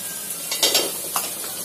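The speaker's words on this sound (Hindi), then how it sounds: "मैं मटर और आलू डाल रही हूँ इसमें" Peas and potatoes tumble into a pan of soya pulao and set off a brief sizzle, with a few stirring scrapes and soft clatter close by and no speech.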